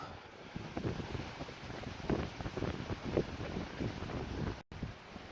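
Steady wind buffeting a microphone outdoors at a shooting range, a broad low rumble with gusty swells throughout and a brief dropout near the end.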